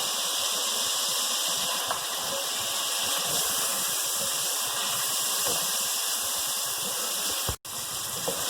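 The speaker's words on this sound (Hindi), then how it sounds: "अब इसके अंदर मैं तमाम ड्राई मसाले ऐड कर दूंगी और इसे अच्छी तरीके से हम भूनेंगे" Dry spices frying in a pan for mutton aloo gosht, a steady broadband sizzle and hiss that holds evenly throughout, with a brief dropout near the end and no talking.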